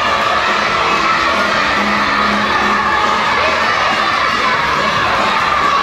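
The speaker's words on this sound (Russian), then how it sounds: "Главные болельщики ребят – родители и друзья, которые подбадривали и переживали за своих детей." Parents and friends cheer children racing in a sports relay, with a loud, continuous crowd of shouting kids and adult cheering filling the whole stretch.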